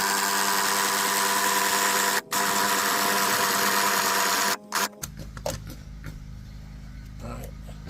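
An impact wrench with a 17 mm socket drives the scissor jack of a Mercedes GLS 450, running as a loud, continuous buzzing whir with two brief breaks before cutting off, followed by quieter clanks and handling noise.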